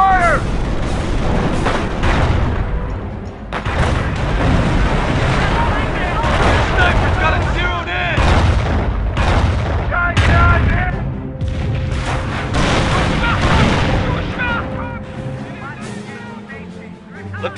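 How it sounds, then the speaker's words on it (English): Enemy gunfire and artillery explosions in a video game campaign mission form a dense, continuous battle din of booms and crackling shots, with soldiers' voices and radio chatter over it throughout. "Incoming enemy fire!"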